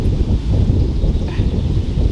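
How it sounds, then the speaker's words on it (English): Loud, buffeting wind rumbles against the microphone throughout, a constant low roar with no voices. "Oh, it's really windy and I hope my microphone picks this up."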